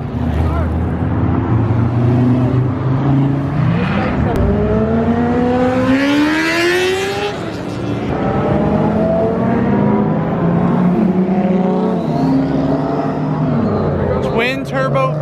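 A twin turbo V10 Audi R8 revs at a Houston cars-and-coffee meet, a loud engine rising and falling in pitch through several throttle swells, close by and dominating, with crowd chatter underneath.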